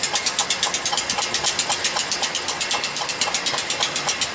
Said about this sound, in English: Not quite sure what's chugging away in that, but pressurizing the system